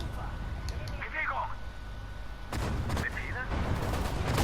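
Anti-aircraft guns firing at tanks in Sudden Strike 4, a dense rattle of rapid shots that grows heavier and louder in the second half, with a voice talking over it.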